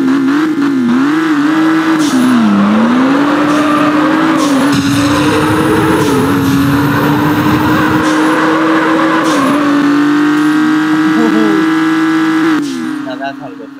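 A drag racing car engine in the video game Drag Racing Rivals drones steadily at a high, wavering pitch, loud and continuous, fading slightly at the very end.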